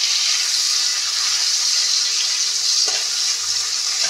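Beans frying in a pan make a steady, even sizzle that fills the whole stretch, with one brief clink partway through.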